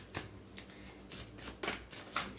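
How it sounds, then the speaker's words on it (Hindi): Tarot cards are shuffled by hand, with quick riffling bursts and soft flicks in an uneven rhythm, close but faint. "शफल कर लेते हैं अच्छे से।"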